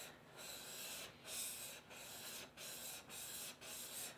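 A hand plane blade being sharpened is drawn front to back across a stone in steady, quiet strokes, giving a soft rhythmic rasp that repeats about every half second to a second, close up with no talking.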